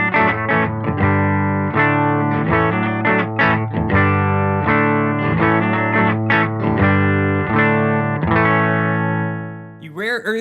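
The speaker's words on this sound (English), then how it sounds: "I'm running a Sipe Guitars OH19 into a Silktone amp." A Sipe Guitars OH19 electric guitar played through a Silktone amp, a steady run of overdriven riffs and chords with bright string attacks, loud and close, ending in a short slide.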